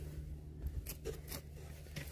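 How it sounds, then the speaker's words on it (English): Scissors snip through the fabric filter sock on a French drain pipe, several close, crisp cuts in an uneven rhythm over a low outdoor rumble. "Just cut the sock in the pipe."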